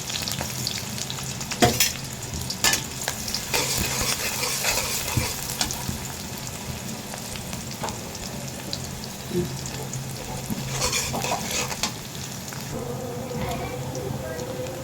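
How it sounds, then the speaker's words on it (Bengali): Green chillies fry in oil in a kadai, a loud close sizzle broken by sharp spitting pops and clatters, with faint voices in the background at times. "আমি কলাই বসাই দিলাম তেল দিয়ে পেয়ে কাঁচামরিচ দিয়ে দিলাম"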